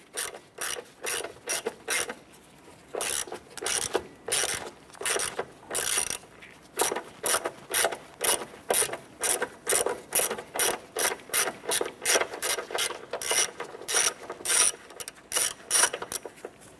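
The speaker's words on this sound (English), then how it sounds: "Using an 8mm socket and extension, we're going to go ahead and remove this bolt here." Ratchet with an 8mm socket and extension loosening the battery hold-down bolt on a 1993-1997 Ford Ranger: loud, rapid bursts of metallic clicking in a steady back-and-forth rhythm, repeated many times and heard close up.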